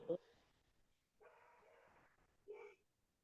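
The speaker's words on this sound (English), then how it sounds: "I gotta go quiet my dog down." A pet dog yelps and barks a few times in a quiet room, with short sharp bursts separated by pauses, picked up faintly as if from another part of the house.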